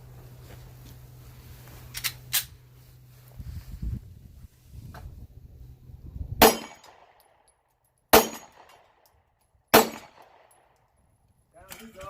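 A Glock pistol fitted with a +2 magazine extension fires at steel plate targets: three sharp, widely spaced reports, each with a ringing metallic clang. Quieter handling noise and a low hum come first.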